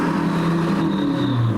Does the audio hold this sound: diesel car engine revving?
yes